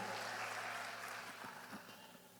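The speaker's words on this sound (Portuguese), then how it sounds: "Mais uma salva de palmas, mais um brado de vitória." A church congregation at a Baptist communion service claps in a dense burst of applause that starts strong and gradually tapers off over a couple of seconds.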